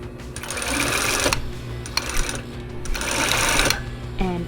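A sewing machine runs a stitch line around a circular fabric hem on a pair of shorts in two close, loud, whirring bursts separated by a short pause, with a brief click near the end.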